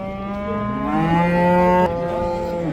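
A young first-calf cow at the Kitob livestock market lets out one long, loud, close moo that rises and holds before cutting off, followed by a quieter tail of market ambience.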